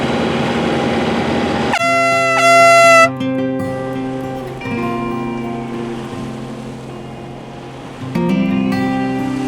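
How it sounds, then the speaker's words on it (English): A sailboat's air-horn foghorn blasts at sea, a loud, sustained blaring tone held for several seconds, then repeated after a pause over faint wind and water. "So I'm just gonna do the foghorn and maybe like do it every minute or two"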